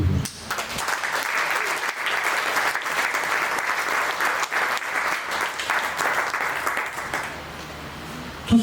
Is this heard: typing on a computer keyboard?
no